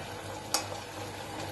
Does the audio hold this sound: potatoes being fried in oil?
yes